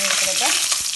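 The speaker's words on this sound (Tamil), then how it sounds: "கடலைப்பருப்பு போடுறேன்." Chana dal frying in hot oil for lemon rice, giving a loud, close, continuous sizzle with a brief stirring scrape.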